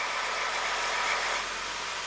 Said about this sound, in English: It's not a good sound. Like it's phasing the exhaust probably to warm up the cats, but they're not equal.